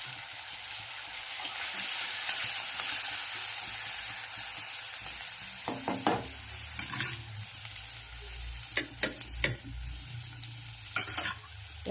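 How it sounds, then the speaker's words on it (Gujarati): Tempering for urad dal with curry leaves, tomato and spices: a soft steady sizzle of oil in a pan, broken by sharp scraping clicks and taps of a stirring spoon toward the end. "સરસ મજાનો અડદની દાળનો વઘાર થઈ ગયો છે"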